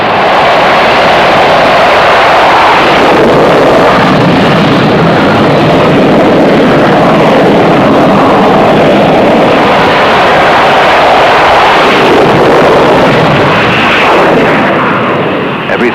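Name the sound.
military aircraft taking off from standing start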